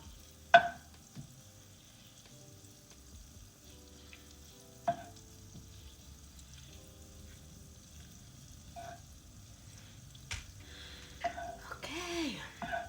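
Ingredient melting in a pan for Jamaican curry shrimp, with quiet frying hiss, occasional sharp knocks of a spoon against the pan, and soft stirring scrapes that grow busier toward the end.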